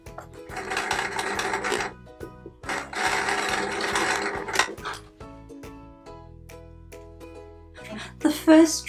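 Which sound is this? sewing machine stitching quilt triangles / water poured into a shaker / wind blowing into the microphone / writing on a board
sewing machine stitching quilt triangles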